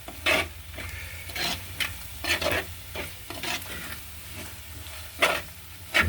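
Onions, shallots and chili are sautéed in a pan, a steady sizzle broken by repeated scraping stirs of a spoon against the pan, close and fairly loud.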